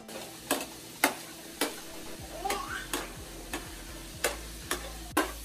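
Spices roasting in a pan for a chicken dish, with a faint sizzle under regular sharp clacks of a spoon stirring against the pan, roughly every half second, close and fairly quiet.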